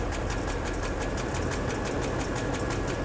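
A car engine idles with a misfiring cylinder 1 while one fuel injector's power is cut, giving a close, constant mechanical rumble with a rapid, slightly uneven knocking pulse.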